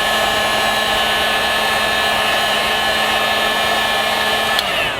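Heat gun blowing hot air across leather while shaping an appendix-carry holster for a Kahr pistol, a loud, steady whirring blower with a high whine that runs unbroken and close, cutting off at the very end.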